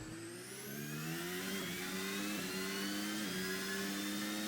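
A racing car engine in a racing video game accelerates hard out of a corner, its tone climbing steadily with faint gear-change dips, loud and continuous with no talking.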